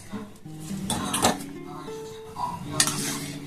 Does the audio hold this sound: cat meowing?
no